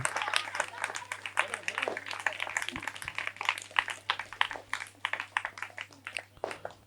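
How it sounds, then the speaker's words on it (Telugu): An audience claps steadily for a church choir at a rosary closing ceremony at a shrine, a scattered patter of hands running throughout while a voice speaks over it. "వారికి కూడా చప్పట్లు కొట్టి అభినందనలు తెలియజేద్దాం."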